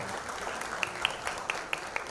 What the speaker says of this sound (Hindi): सर की तालियां हो जाए एक बार।